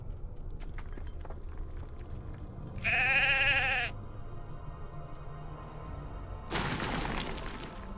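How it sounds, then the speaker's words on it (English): Sheep bleating in the video game LOTRO, one clear wavering bleat near the middle over a low ambient game background, followed later by a fainter noisy burst. "There's a sneaky sheepy hiding behind a column."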